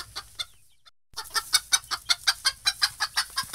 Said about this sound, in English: Mrs. Chicken wants you to know that you have a message.